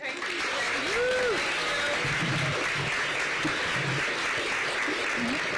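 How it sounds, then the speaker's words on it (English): A crowd gives steady, dense applause to welcome the city's mayor, Muriel Bowser, clapping throughout with a few cheers and whoops rising above it. "please give a warm welcome to the leader of our great city, Mayor Muriel Bowser"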